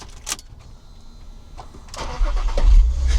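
VW Scirocco with a 3.2 VR6 engine, mid-build, starting up after a few clicks and a whirring starter, then catching into a loud, close rumble that rises toward the end.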